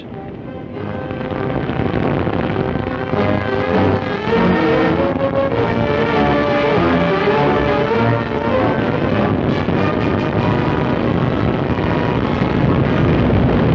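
A three-stage, 72-foot rocket launch attempt at Cape Canaveral, heard as a steady, loud, rumbling roar of engine thrust that builds quickly and holds for over ten seconds.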